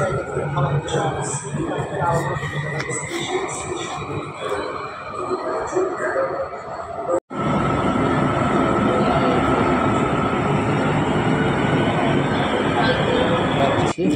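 A train rolls along near Putrajaya, Malaysia, heard from inside as a steady, fairly loud rumble and hum, broken by a brief gap midway before the running noise resumes at full level.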